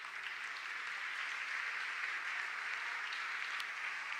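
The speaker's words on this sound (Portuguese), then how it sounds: "der uma linda salva de palmas para Jesus" A church congregation applauds for Jesus, a steady wash of many hands clapping at moderate distance, continuous and even throughout.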